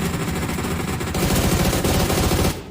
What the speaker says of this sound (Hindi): बहुत सारे शॉट्स रैपिड केओस की तरफ से टीएजी के प्लेयर्स के ऊपर।